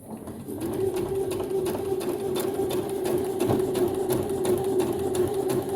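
A Brother CS6000XL sewing machine runs steadily, stitching right along the edge of a piece of fabric with a continuous close mechanical whir and no pauses.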